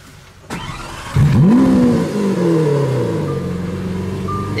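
A 2017 Lamborghini Aventador S starts with a sharp crank and bursts into a loud, high revving flare, then settles into a deep, steady idle rumble close by.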